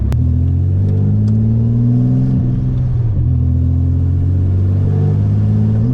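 A Project F car engine being tuned revs loud and close, its droning note climbing and easing with a brief dip midway before settling back into a sustained rumble.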